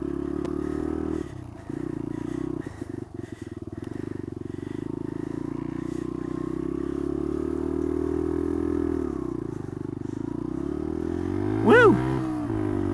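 Dual sport motorcycle running off-road in first gear, its engine droning steadily and close for the whole stretch, with clatter and scrapes from rough terrain, a dip in revs near the end and a brief higher whine.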